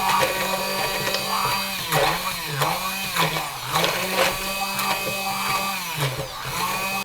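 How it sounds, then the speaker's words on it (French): A kitchen blender purées a sauce made with sole coral, a loud, close motor whir that surges and dips in repeated pulses for several seconds. "et puis donc on va mixer"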